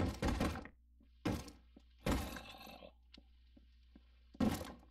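Zombie pounding on a door in a video game, heavy dull thuds arriving in a few separated blows, close and loud against a quiet humming background.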